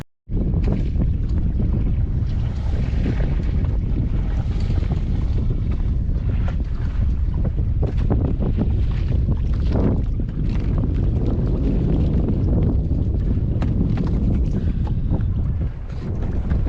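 A sailboat moving slowly up Upper Campbell Lake, heard as a constant loud roar of wind buffeting the microphone with water washing along the hull, steady throughout and free of talk.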